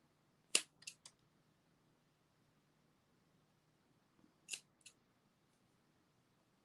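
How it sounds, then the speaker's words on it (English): Two short clusters of close scissor snips trimming craft material for crayon-themed mouse ears, a few crisp cuts each separated by a quiet pause. "I'm just going to trim a little bit more."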